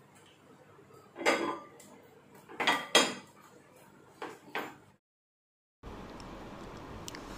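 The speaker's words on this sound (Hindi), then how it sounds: "यहाँ पर मैं बर्तन को क्लीन करूँगी" Utensils and dishes clinking while being washed in an Indian home kitchen, several sharp clattering bursts close by, then a brief silence followed by steady running water.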